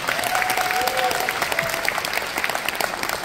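A crowd applauds steadily at a documentary panel, many hands clapping in a dense, continuous patter with faint voices underneath.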